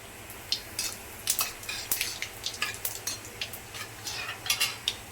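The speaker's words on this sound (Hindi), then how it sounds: "तो ये डाल दिया मैंने इसमें जीरा।" Cumin seeds fry in hot oil in a kadai, giving a soft background sizzle broken by frequent sharp metallic clinks and scrapes of a utensil against the pan, irregular and fairly close, with no talking.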